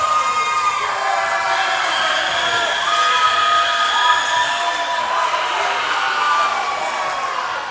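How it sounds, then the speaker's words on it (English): A loud indoor crowd cheers and whoops steadily at a high school volleyball match between Beeville and Sinton, with shouting voices swelling throughout. "crowd's getting more into it."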